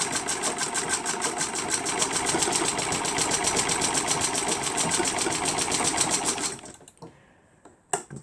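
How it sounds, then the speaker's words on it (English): A treadle sewing machine stitches a dress with a fast, steady mechanical whir and rapid needle clatter, running continuously for several seconds before stopping, followed by a few scattered clicks and handling noises. "this dress is going to look like done on a treadle machine"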